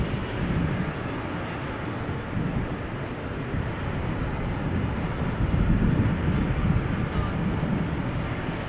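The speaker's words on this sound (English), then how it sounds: "Emirates Flight 146 to Dubai on its way to runway 24" Emirates jet airliner taxiing toward the runway at Amsterdam Schiphol Airport, a steady distant engine rumble and hiss with wind noise, while a person talks over it.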